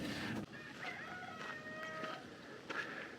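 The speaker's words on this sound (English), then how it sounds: "And the rooster crows." A rooster crows at a distance near a seafood harbor with boats, thin and faint, over steady low background noise, with another fowl call near the end.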